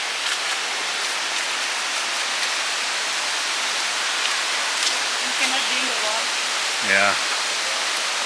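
Steady, broad rushing water from the Khlong Lan Waterfall fills the whole stretch evenly, with faint voices briefly heard beneath it.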